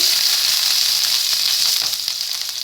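Crushed garlic and ginger sauté in hot oil for a hot and sour vegetable soup, giving a loud, steady, dense sizzle that holds evenly throughout and eases off slightly near the end, with no voices.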